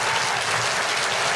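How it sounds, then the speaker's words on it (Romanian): Audience at the Mărțișor 2011 festival concert in Ialoveni breaks into strong applause, a thick, continuous roar of clapping filling the whole moment without speech. "Dacă v-a plăcut, vă rog frumos să confirmați prin aplauze."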